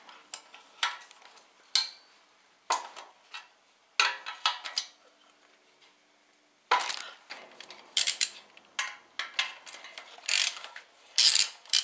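A ratchet loosens the angled exhaust manifold flange bolts on a Peugeot/Citroen 1.4-litre TU3 JP engine. Close, crisp bursts of rapid clicking come in short strokes with quiet gaps between them.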